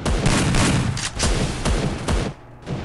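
Gunfire in a shooting video game, rapid bursts of loud shots in quick succession, dense and continuous with short pauses between volleys.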